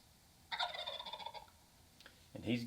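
A wild turkey gobbler gobbles from its roost at close range, two rapid rattling gobbles with a short gap between them in an otherwise quiet woods.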